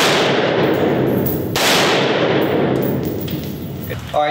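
A loud, close gunshot from a 16-inch 5.56 rifle with a standard birdcage flash hider cracks and rings out, followed by a long decaying echo and a faint metallic clink at the end.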